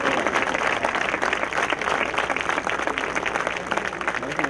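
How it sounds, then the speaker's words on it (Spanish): Loud, sustained audience applause fills the air at a district anniversary ceremony in La Molina, a dense continuous roar of many hands clapping close by without pause. "Fuerte las palmas para nuestro ídolo."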